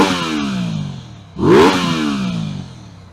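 A stock Aprilia RS 660 motorcycle engine revs hard once, a sharp rising blip that swells loudly and then falls away over a sustained engine drone. It is close and clear, with no talking.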